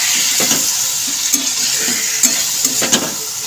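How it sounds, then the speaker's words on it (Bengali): Masala being stirred into frying chicken on lowered flame, a steady close sizzle with repeated scraping strokes of a spoon against the pan at an uneven rhythm, no talking. "দিয়ে এই মশলাটাকে আমি খুব ভালো করে চিকেনের সাথে মিক্স করে দেবো।"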